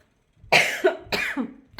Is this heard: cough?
yes